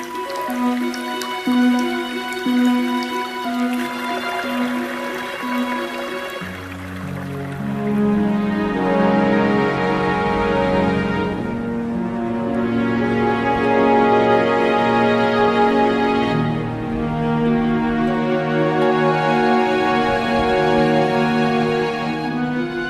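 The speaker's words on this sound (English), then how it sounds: "The trickle and murmur of water is everywhere." Spring meltwater drips and trickles on Arlberg mountain, a steady mix of drips and murmuring flow running through the whole stretch alongside sustained tonal layers, with no voices.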